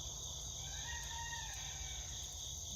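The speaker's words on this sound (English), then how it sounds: "is a rooster, my friend." A rooster crows once in the distance, a faint drawn-out call over a steady background of insect-like buzzing and low hum.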